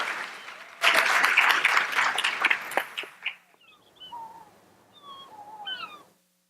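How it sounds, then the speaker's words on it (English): An audience at a spring education pinning ceremony at Albany State University gives a short burst of close, full applause that tapers off after a few seconds, followed by thin, high whistling chirps over a quiet room. "Please give all of our candidates in the secondary education program a round of applause"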